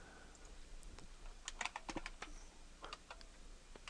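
Keys clack on a computer keyboard as a username and password are entered, a burst of quick, irregular taps close by, quiet and alone with no talking.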